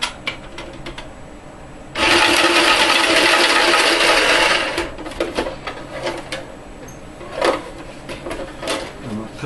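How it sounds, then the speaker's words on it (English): An automatic card shuffler whirs loudly for about three seconds in a steady mechanical burst, followed by quieter clicks and handling noises of cards. "That's just our automatic card shuffler."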